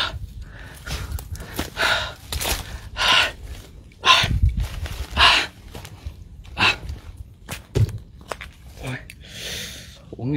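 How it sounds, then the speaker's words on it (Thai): A man exploring a cave breathes heavily and gasps out of breath in uneven bursts, close and loud, with the shuffle of movement between breaths. "โหแม่งโคตรหอบเลยครับผมนะ"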